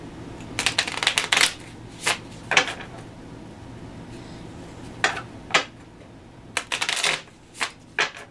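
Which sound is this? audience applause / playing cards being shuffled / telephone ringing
playing cards being shuffled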